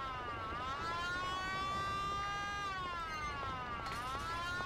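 A police siren in a video game wails steadily, its pitch rising and falling in long sweeps, with a fresh upward sweep near the end, sounding moderately faint and alone without speech.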